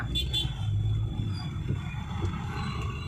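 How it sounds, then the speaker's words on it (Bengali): Heavy dumper trucks hauling stone from Bhutan idle and creep in a traffic jam near the Birpara rail gate, giving a steady low engine rumble with passing traffic noise throughout. "ডাম্পারগুলো দেখছো পাথরবাহী ট্রাক সামনেই ভুটান"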